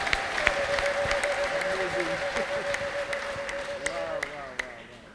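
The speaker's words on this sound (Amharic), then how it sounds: "ለኢየሱስ ከፍ ያለ እልልታ ጭብጨባ አምጡ" A church congregation applauds and ululates for Jesus, a dense wash of clapping with a high, wavering ululation trilling through it, steady for several seconds before fading.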